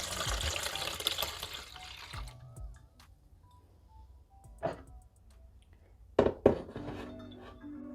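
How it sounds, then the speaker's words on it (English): Cold water pours into a mixing bowl for basil lemonade in a steady, close splashing stream that stops, followed by a few sharp clinks and knocks of kitchenware in a quiet room. "I have 2 cups of cold water."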